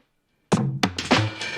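Layered drum fill samples for a beat-battle track play together after a short silence, a run of punchy hits and thumps with ringing low tones, close and loud with no voices.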